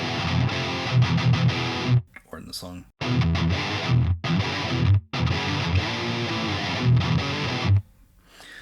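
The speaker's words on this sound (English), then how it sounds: "it's just a really crunchy kind of sounding distortion." Crunchy high-gain distorted electric guitar through a Neural DSP Omega Ampworks Granifier plays loud chugging riffs in short bursts, cut by brief pauses, with a short spoken phrase in one gap.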